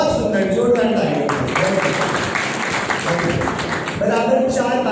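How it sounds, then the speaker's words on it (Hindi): Audience at a religious study camp breaking into loud, dense applause that fills the room for several seconds, with voices audible underneath. "जोरदार तालियां।"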